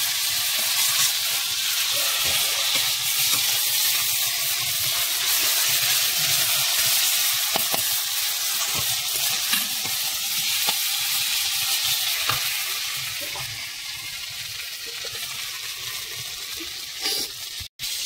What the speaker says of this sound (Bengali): মশলাগুলো এখন ভাজা হয়ে গেছে, এখন মাংস দিয়ে নেওয়া হবে